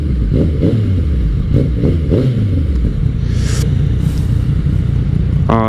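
A 2017 Yamaha FJ-09 motorcycle's exhaust rumbles loud and close, rising and falling through several revs with pitch sweeps and a brief high whine at the end, with steady road and wind roar beneath.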